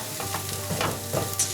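Chopped onions fry with garlic in a pan aboard a sailboat, a dense close sizzle with a few soft stirring scrapes over a low hum.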